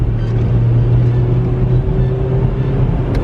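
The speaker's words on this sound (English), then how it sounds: "we're gonna have to pass this bread truck right now." A car on the road gives a steady, loud engine drone with low rumble as it pulls out to pass a bread truck, heard alone without talk.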